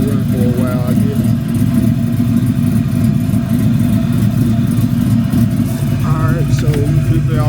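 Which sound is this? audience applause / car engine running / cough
car engine running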